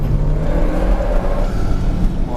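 An Alpine A110 drives hard on the Mornay race circuit, its engine droning loudly and steadily with a rising rev near the end, heard from inside the car with no talking.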